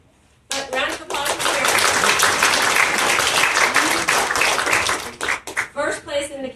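Audience at a literary review book launch bursts into close, lively applause, with many hands clapping densely for about five seconds before it thins into scattered claps while people speak and cheer.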